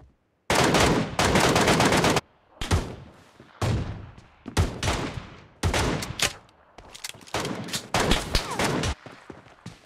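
Gunfire in a shooting video game team fight: loud bursts of automatic fire and single shots in rapid clusters separated by short gaps, close and dominant.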